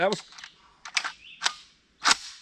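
East German 7.62x39 practice rounds fire as a few sharp, separate gunshots spaced about half a second apart. A brief voice sounds at the very start.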